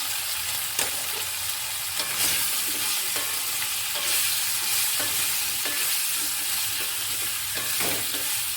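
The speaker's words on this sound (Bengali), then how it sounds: "ঢ্যাঁড়সগুলো দিয়ে দেবো।" Okra sizzles steadily in a pan of hot oil seasoned with asafoetida over a lowered gas flame, with a spatula scraping and clicking against the pan every second or so; no one speaks.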